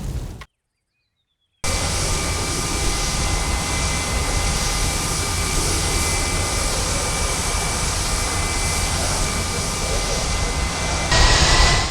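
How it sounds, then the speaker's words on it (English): Loud, sustained jet engine roar of a Lockheed TR-1 spy aircraft in the ARMA 3 video game, steady throughout after a brief silent gap near the start. "The last TR-1 aircraft built at 8 leaves the Lockheed factory."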